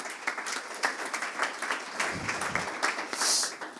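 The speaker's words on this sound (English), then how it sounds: "Please give her a warm round of applause." An audience at a library conference gives a round of applause, a moderate crowd of clapping hands sustained throughout at middle distance, with a faint voice underneath.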